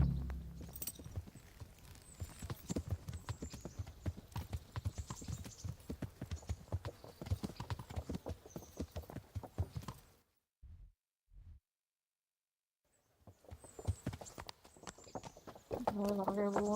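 Horse hooves clip-clop steadily while riding in the medieval game Kingdom Come: Deliverance, a rapid rhythmic patter under game dialogue and music, breaking off briefly into near silence before the hoofbeats and talk resume.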